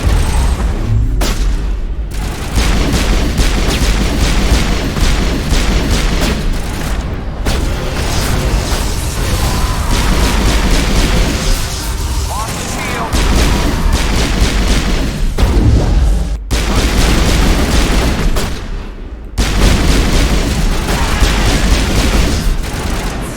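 Continuous loud booms and explosions from combat in Mass Effect 1 Legendary Edition, including grenade blasts mixed with heavy gunfire, fill the whole stretch with only brief pauses.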